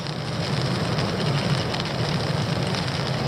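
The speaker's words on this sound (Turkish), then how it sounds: "Hava, fırtına, yağmur." Steady, dense rain drumming on a tent close by during a storm, a continuous rushing hiss with a low rumble underneath and no voices.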